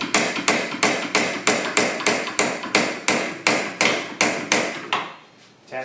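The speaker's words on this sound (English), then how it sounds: "Tapping on these bolts" A hammer taps the bolts of a StopTech Competition brake kit on an NC Miata; about a dozen evenly spaced, ringing metallic strikes sound up close at a steady pace, then stop.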